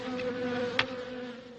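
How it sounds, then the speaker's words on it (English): A steady, low buzzing of bees hums continuously, faint but unbroken, with a brief tick partway through. "now he had over 100 hives of bees"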